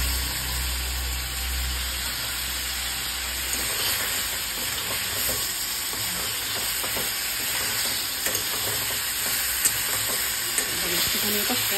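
Potato curry ingredients sautéing in a pan give a continuous loud hiss and sizzle, with a low rumble at the start and occasional faint scrapes.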